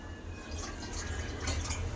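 Water poured into a pot on a gas stove for cooking dal, a brief close splashing and trickling with a low rumbling undertone, no speech.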